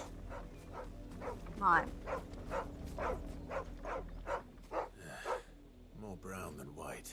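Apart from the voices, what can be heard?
dog barking in Final Fantasy XVI video game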